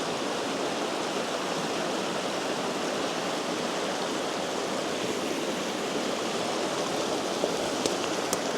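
Steady rushing of creek water, a dense continuous babble that holds an even level throughout with no voices.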